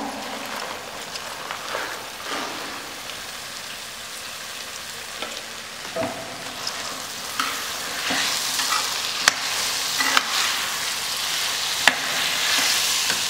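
Chopped cauliflower, cabbage, peas, beans and carrot stir-fried for restaurant-style veg fried rice, a steady close sizzle with repeated scraping strokes and clanks of the spatula growing busier toward the end.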